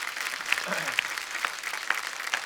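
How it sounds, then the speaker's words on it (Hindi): Steady applause from a TV comedy show studio audience, sustained clapping throughout at moderate volume, with a few sharper claps standing out. "एक बार जोरदार तालियां"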